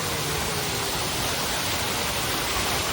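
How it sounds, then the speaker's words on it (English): A decorative waterfall at a theme park gives off a continuous, even rush of falling water, loud and close, with no voices over it. "Like a waterfall right there."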